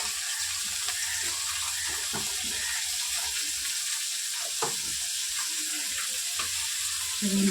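Fish frying in a wok beside a curry being cooked down, giving a continuous close sizzle with occasional clatter and stirring knocks, no talking.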